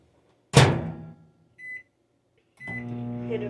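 A microwave oven door thunks shut, a short beep follows, and after a pause another beep starts the steady low hum of the oven running, used to melt candle wax.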